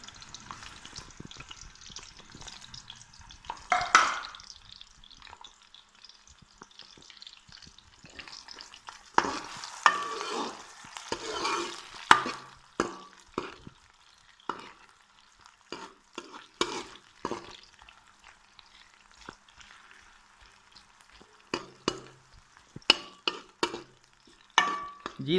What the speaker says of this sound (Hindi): प्याज बिल्कुल गोल्डन ब्राउन होने तक फ्राई होने देना है अच्छे से।